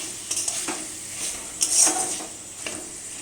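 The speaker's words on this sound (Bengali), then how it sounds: "আলুটাকে একটু মশলার সাথে নেড়ে" Potatoes are stirred with spices in a pan, soft sizzling under a few scraping spatula strokes and light clinks against the metal, close by and quiet.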